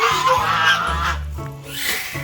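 Loud, close goose honks sound from a family of geese, several harsh calls overlapping in quick succession with no talk.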